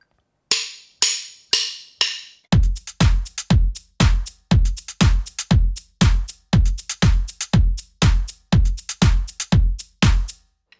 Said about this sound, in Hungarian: Megmutatnék párat, például hármas gyakorlat a kombinált lábcin ritmusok közül